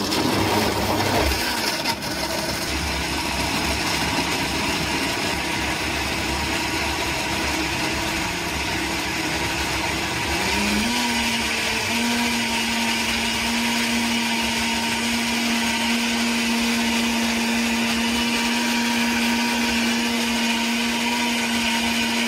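A Karaca Powermix 1801 blender on its smoothie program whirs loudly and steadily, its motor pitch shifting partway through and then holding a constant, close drone for the rest.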